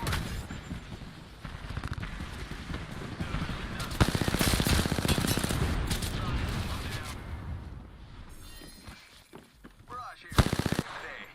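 Video game gunfire in sustained dense automatic bursts and booming impacts, loud and close, with voices talking over the shooting before it thins out near the end.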